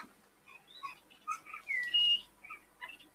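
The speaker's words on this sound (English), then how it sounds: "I don't know if you can hear that. I've got birds up in the eaves of the workshop." Small birds chirp and whistle from up in the eaves of a woodturning workshop, a quick scatter of short, bright calls and trills, faint and fairly close in an otherwise quiet room.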